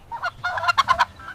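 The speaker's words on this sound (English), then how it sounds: "This is a turkey." A turkey calls in a short run of nasal, honking gobbles that rise to several quick bursts near the end, close and fairly loud with no other sounds.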